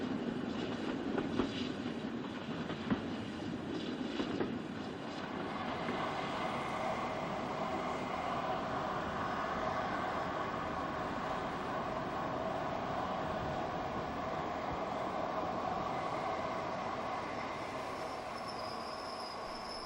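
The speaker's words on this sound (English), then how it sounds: "the train made its way out of London on a murky winter's morning" A train on the Sidmouth and Budleigh Salterton railway line in England rumbles steadily and loudly throughout, a continuous roar of wheels and engine with a brief squeal as it runs along the track.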